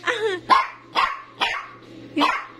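A dog barks five times in quick, evenly spaced bursts, close and fairly loud, with a faint growly edge between barks.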